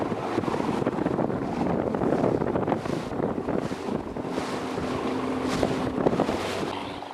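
A boat pushes through choppy water in rain with steady wind buffeting the microphone, a dense, continuous rush of spray and waves throughout.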